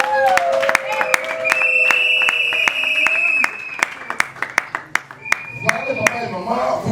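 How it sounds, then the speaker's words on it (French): Guests clapping at a civil wedding ceremony, scattered sharp claps that keep sounding over sustained music and voices, with a loud officiant speaking throughout. "nous acclamons très fortement"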